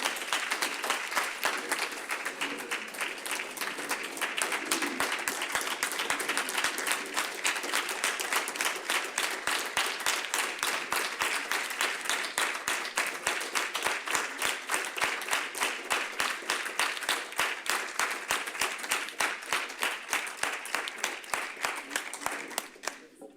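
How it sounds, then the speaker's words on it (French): A city council chamber in Douai gives a long, steady round of applause for Bruno, a retiring member, with dense even clapping sustained for over twenty seconds before fading at the end. "J'aimerais, Bruno, que vous vous leviez et que nous puissions vous applaudir et vous remercier très"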